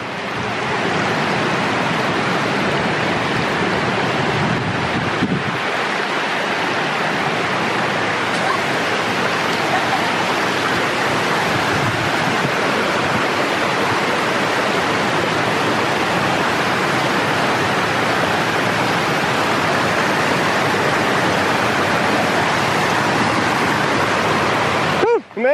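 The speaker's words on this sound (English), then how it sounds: "we're at this amazing waterfall just here in the Absaroka-Beartooth Wilderness." A waterfall in the Absaroka-Beartooth Wilderness pours with a steady, loud broadband roar that fills the whole stretch, close and continuous, with a brief dip mid-way.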